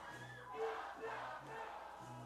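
A baseball crowd at a Batavia Muckdogs minor-league game sings together in the final inning, the massed voices faint and distant.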